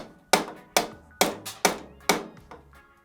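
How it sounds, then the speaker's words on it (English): A rubber hammer strikes a corroded, stuck bearing on a motorcycle front end, six sharp, evenly spaced blows with short ringing decays, loud and close with no talk. "Let's go back to our rubber hammer and see what happens with that"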